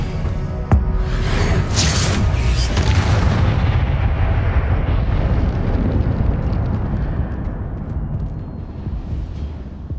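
Expelliarmus spell cast in Hogwarts Legacy: a sharp crack followed by a loud, roaring, explosive whoosh that rumbles heavily and slowly fades over several seconds.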